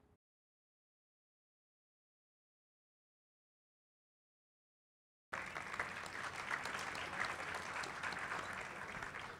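Full audience applause at a Brazilian internet forum, breaking out after several seconds of near silence and continuing as a steady, dense roar of many clapping hands until the end.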